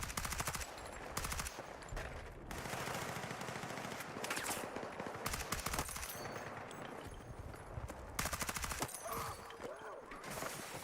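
Suppressed rifle with a long suppressor and 26-round magazine firing in a multiplayer video game, rapid bursts of muted automatic shots in repeated strings, loud and close over game ambience.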